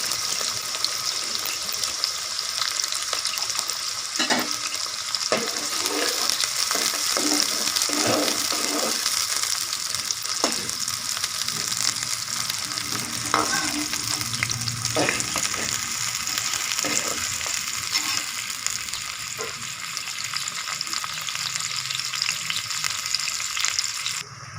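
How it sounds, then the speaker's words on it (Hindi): Onions fry in ghee for a chicken beetroot dish, a continuous close sizzle broken by occasional scraping from stirring, with no talking. "सबसे पहले घी में प्याज डाल दें,"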